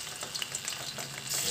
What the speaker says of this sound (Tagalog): Iluto po natin ang bawat side ng 5 minuto o hanggang sa mag-golden brown.